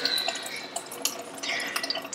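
Water dripping and trickling from frozen-then-thawed tofu as it is squeezed by hand, a close, steady patter of small drips and splashes with a few brighter droplet hits throughout.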